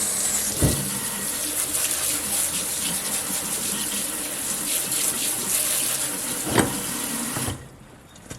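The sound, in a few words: tap water rinsing lime off pickles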